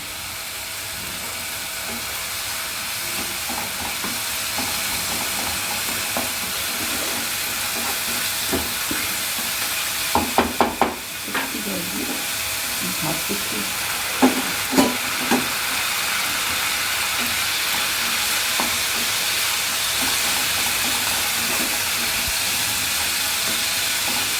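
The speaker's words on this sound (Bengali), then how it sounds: "ভাজা ভাজা হয়ে যায়, একটু আঁচটা বাড়িয়ে দিই, তাহলে তাড়াতাড়ি হবে" Pointed gourd fries in a pan for a curd pointed gourd dish, a steady sizzle broken by occasional clinks and scrapes of stirring, with no talking.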